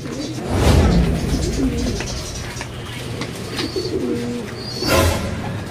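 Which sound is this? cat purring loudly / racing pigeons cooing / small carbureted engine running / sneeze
racing pigeons cooing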